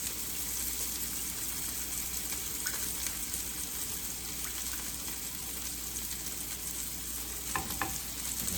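Food sizzles gently in a frying pan while being stirred, a steady close crackling hiss with occasional soft scrapes and clinks.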